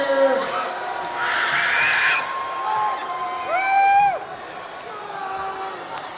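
Crowd noise with shouts and whoops in a gym during a boys high school basketball game, Sandy versus Gresham, loud and sustained, peaking in the first half, with voices calling over the din.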